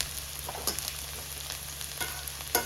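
Onions frying in a pan for a rice noodle dish, a steady soft sizzle running throughout with a few brief stirring clicks, close and fairly quiet, no voices.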